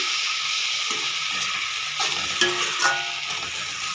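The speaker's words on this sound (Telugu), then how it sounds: "కాశ్మీరీ చిల్లీ కారం వేసానండి వేసి బాగా కలబెట్టేసి" Pasta is stirred in a pan after Kashmiri chili powder goes in, giving a steady close sizzle with scraping, swishing stirs and a few louder clanks near the end.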